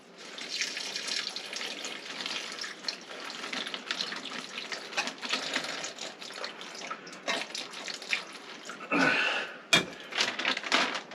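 Water pours steadily into a homemade charcoal filtration bag, a continuous splashing rush that shifts and surges briefly near the end.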